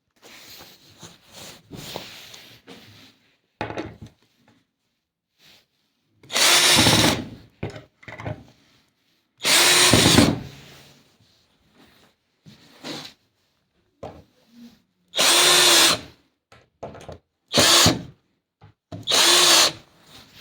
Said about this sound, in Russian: скручиваем обе доски